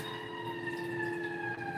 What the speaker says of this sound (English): y'all hear those sirens.